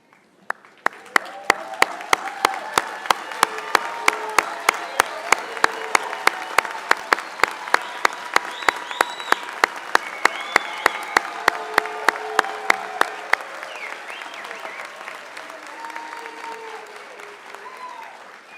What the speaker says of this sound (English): Let's stand up and give these new graduates a round of applause.